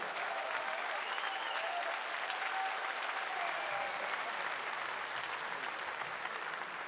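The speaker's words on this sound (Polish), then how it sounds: "Zebrał już Mamet, te należne mu brawa" Sustained crowd applause fills an arena at a Polish professional MMA league event, a steady dense wash of clapping that holds evenly throughout with a faint tonal hum beneath.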